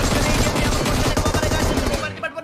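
M249 machine gun firing in a competitive online shooter match, a dense, loud burst of rapid automatic fire lasting about two seconds before cutting off.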